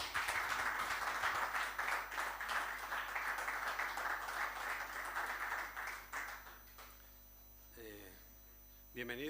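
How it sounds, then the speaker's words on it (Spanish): An audience at an international Albariño wine symposium applauds for several seconds, a dense, fairly loud clapping over a constant electrical hum, fading out before a voice begins speaking. "Un aplauso, por favor."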